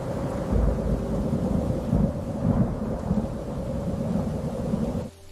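Steady rain on a rainy day, a dense continuous wash with deep rumbling undertones, holding at an even level before dropping off abruptly near the end.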